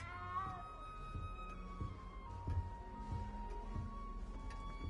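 A cat meows in the video game Effie, a few short plaintive cries over a quiet low ambient background, with no speech.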